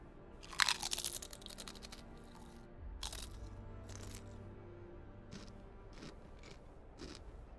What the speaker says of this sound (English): Okay, I gotta get this chip crunch in here.